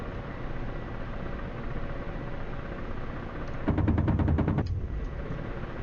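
A Ka-50 attack helicopter's cannon in the DCS flight simulator fires one short, rapid burst of about a second, loud and close, over a steady rotor and engine drone.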